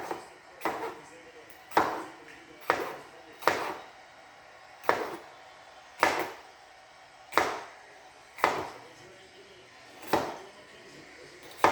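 Knife chopping food on a cutting board in a home kitchen, about ten crisp, evenly spaced strikes close up in a steady rhythm, with a quiet room behind them.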